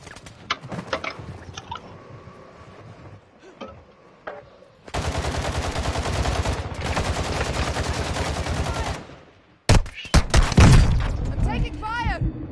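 Warzone gunfire, scattered sharp shots early, then a long sustained burst of automatic fire and loud close shots at the end, with game voices over the combat.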